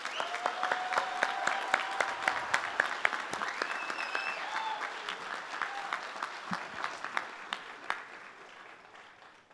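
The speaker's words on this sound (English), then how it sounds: "let's give a round of applause to our graduates for the great job they did in getting here." The 2023 Oregon Tech graduation commencement crowd applauds steadily, dense clapping filling the hall and then gradually fading toward the end, with no speech over it.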